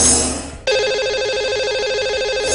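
A telephone rings on a live Hindi radio call-in show, a steady warbling electronic ring with repeating pulses that starts abruptly after a burst of broadband noise and carries on alone, loud and close.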